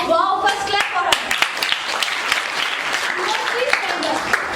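Classroom audience applauds a student who stood up to answer, a burst of dense clapping close by with voices talking over it throughout.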